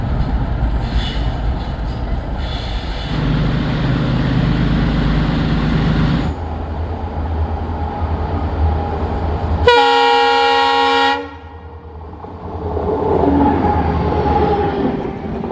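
Trains pass on a curve near Dharwad railway station, with a heavy rumble of wagons, a long loud horn blast midway, then the rumble fading as they roll on.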